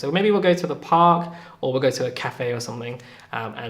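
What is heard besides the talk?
No everyday noises stand out.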